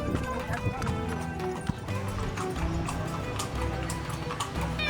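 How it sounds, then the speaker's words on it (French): A horse-drawn carriage moves through a town in Egypt, its hooves clip-clopping in a steady rhythm close by while a voice talks over the sound. "C'est en calèche que nous traversons la ville."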